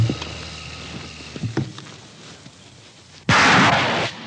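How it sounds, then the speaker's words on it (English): Combat Engineer Tractor firing its Vinicum anchor, a sudden loud blast-like rush of broad noise near the end, after a few quieter knocks and thumps. "This one is fitted with a Vinicum anchor that, once fired and embedded into the far side"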